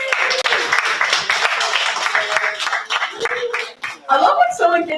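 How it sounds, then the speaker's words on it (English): An open mic crowd claps and cheers for the next performer, a dense, steady patter of many hands mixed with talking and whoops, swelling louder near the end. "I love when someone gets the pre-claps."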